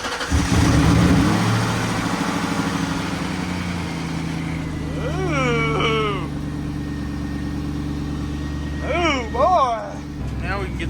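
A 1996 Cobra car engine starts and settles into a steady, loud close-up running rumble with rev swells, while people talk over it.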